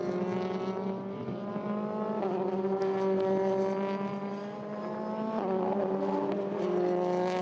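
Euroformula Open single-seater race car lapping Paul Ricard in France during qualifying, its engine note loud and close, sweeping up and down through gear changes as it pounds through the Courbe de Signes and turns 11 and 12.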